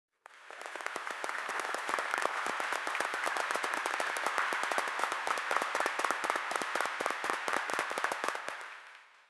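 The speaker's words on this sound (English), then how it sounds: "Applause. Standing ovation." Dense, sustained applause from a large audience giving a standing ovation, many hands clapping steadily and evenly for about nine seconds before tapering off.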